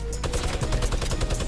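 Rapid gunfire in the video game Fortnite, a dense burst of sharp repeated shots in quick rhythm, loud and close, running for the whole moment with no talk over it.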